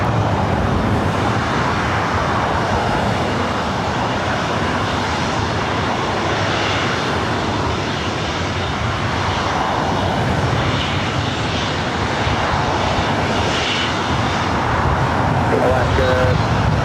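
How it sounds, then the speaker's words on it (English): Alaska Airlines Boeing 737-900ER jet at LAX, a loud sustained engine roar mixed with a distant traffic rumble, with a voice talking over it. "Alaska Airlines Flight 1013 heading to Seattle, 737-900ER."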